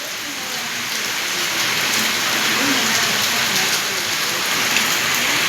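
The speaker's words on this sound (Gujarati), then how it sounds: "ફૂલ ઓન વરસાદ આવે છે" Heavy rain pouring down steadily after falling all night, a dense continuous roar of drops hitting surfaces nearby, with no pauses and no voices.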